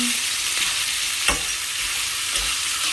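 Ampalaya and minced pork stirred in a hot pan with a pinch of salt and sugar, giving a steady close sizzle with a few soft scrapes of the spoon and no talking.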